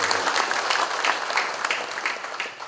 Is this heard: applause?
yes